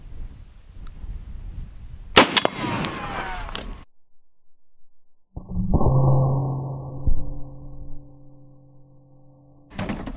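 A single gunshot fires an armor-piercing black tip round, one sharp, loud crack with a brief ringing tail, followed by silence and then some metallic clatter and hum.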